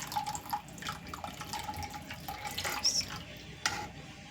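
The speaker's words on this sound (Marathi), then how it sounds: "याची कन्सिस्टन्सी मेंटेन होण्यासाठी आपण याच्यात थोडंसं हळूहळू पाणी टाकूयात." Water trickles slowly into a pot of tomato saar, a steady thin pouring wash with small drips and splashes, close and moderately loud with no voices.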